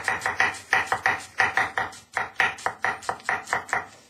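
Onions being finely chopped with a knife on a board for an onion purée, a fast, steady run of crisp close knife strikes with brief pauses and no voices.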